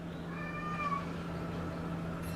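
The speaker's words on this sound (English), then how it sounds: "there goes my cat." A cat meows once in a drawn-out, rising and falling call, fairly close and clear over a steady low electrical hum, in a quiet indoor room with no talking.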